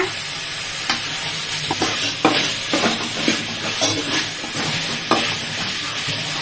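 Tomato and curry leaves fry loudly in a hot pan, giving a continuous sizzle broken by repeated sharp scrapes and knocks of a stirring spoon against the metal.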